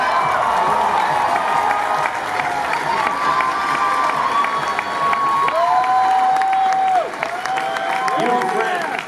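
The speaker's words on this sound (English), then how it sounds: "Let's give you a big round of applause" A convention hall audience at a cosplay championship claps and cheers, a loud sustained roar of applause with whoops and shouts, a voice rising over the crowd, and the noise dipping briefly near the end.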